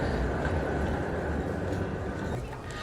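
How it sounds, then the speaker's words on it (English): Tram heading back to Sóller from Port de Sóller, a steady low rumble of wheels and motor passing nearby amid outdoor seaside ambience, easing slightly at the end. "we see the tram heading on back to Sóller"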